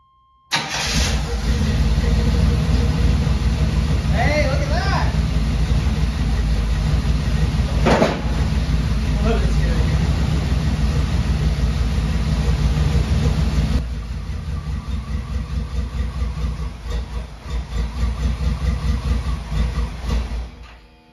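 A 1986 El Camino's engine cranks, catches and runs with an uneven, misfiring idle, loud and close with rough pulses throughout, then settles slightly lower for the remaining seconds; no speech.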